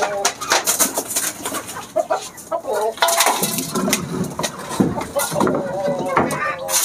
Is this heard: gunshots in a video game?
no